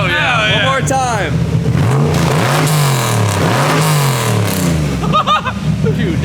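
An LS3 V8 swapped into a BMW E46 revs hard several times, deep rising and falling engine sweeps roaring close by while excited voices talk and shout over it.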